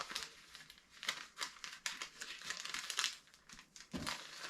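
Paper being folded and creased by hand to make a seed starting cup, a run of close, crisp crinkles and rustles in irregular bursts with no talking.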